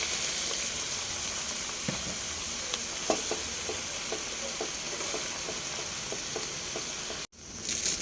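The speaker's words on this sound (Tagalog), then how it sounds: "Lagay ko na yung bihon para sabay-sabay ng maluto." Bihon rice noodles cooking in a hot sizzling pan, a constant frying hiss with scattered clicks and taps of stirring, close and steady, cut by a brief break near the end.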